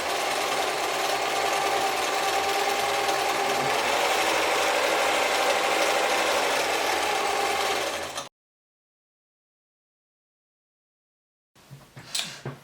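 German-made Singer 720 sewing machine running steadily while stitching a scallop pattern, loud and close with a dense mechanical whir, then stopping dead into silence before a brief clatter of handling at the end.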